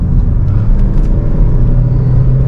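Car with an automatic gearbox on a downhill road, its engine rumbling steadily and loud up close as it accelerates again after hard braking, a low continuous drone with no talk.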